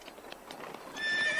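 A horse in Zelda Breath of the Wild clip-clops steadily with a neigh near the start, hooves continuing at an even pace, followed by a brighter rising whoosh of game sound in the last half second.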